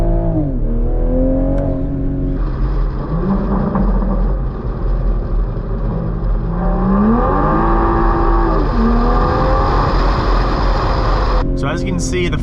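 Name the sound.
Toyota Supra 3.0 engine accelerating with downshifts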